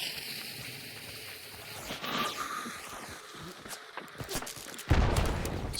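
Gunfire in the game Hunt: Showdown: quiet, scattered reports and rumbling across a distant firefight, building to a sharp, louder blast near the end.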